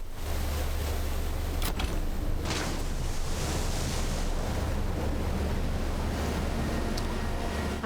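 A huge ocean wave rushes through in Outer Wilds, a continuous loud roar of surging water and wind-like noise that holds steady throughout, with no talking.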